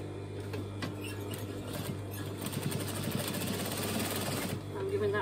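A sewing machine stitches around a denim jean hem, giving a steady, close mechanical whir and rapid needle chatter that runs continuously while someone talks over it.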